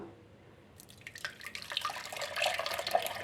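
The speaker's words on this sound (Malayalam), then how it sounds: "ഇനി ഇതേ ജാറിലേക്ക് തന്നെ നമ്മൾ അടിച്ചു വച്ചിരിക്കുന്ന ഈ ജ്യൂസ് ഒഴിച്ചു കൊടുക്കാം" Blended watermelon juice poured into a blender jar for watermelon ice cream, a steady liquid pour with dripping splashes that starts faint and grows louder, with no talking.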